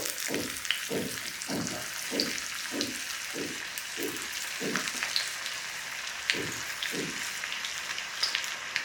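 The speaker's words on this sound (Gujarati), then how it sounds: "હવે આપણે બનાવેલા કબાબને ગરમ તેલમાં તળી લઈશું" Steady crackling sizzle of kebabs frying in hot oil over medium-high flame, with a series of rhythmic low thumps repeating about every half second underneath.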